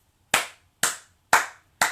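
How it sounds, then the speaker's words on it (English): Four sharp hand claps in front of the chest during a home hatha yoga practice, evenly spaced about half a second apart, close and crisp with quick decays and quiet between them. "start clapping in front of your heart"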